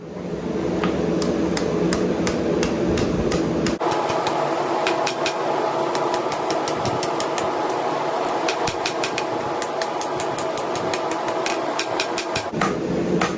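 Sharp metallic strikes of a cross-peen hammer forging a steel hunting knife on an anvil ring out in quick rhythmic bursts against a steady mechanical hum, with short pauses between series of blows.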